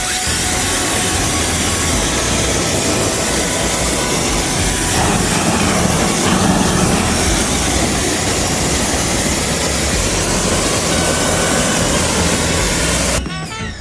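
A Westinghouse EPX3050 pressure washer spraying a driveway gives a loud, steady hissing roar that holds for the whole stretch, then cuts off abruptly at the end.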